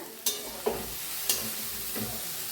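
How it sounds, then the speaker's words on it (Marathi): Cluster beans (gavar) being stirred and fried in a pan, a soft continuous sizzle broken by a few distinct spoon scrapes and clinks against the pan. "बघा आता ह्याच्यात टाकूया गवारी हा ना गवारी बी आपली छान भाजले बघा मिक्स करूया भाजीला"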